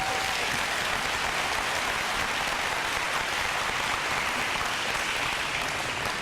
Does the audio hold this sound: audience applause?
yes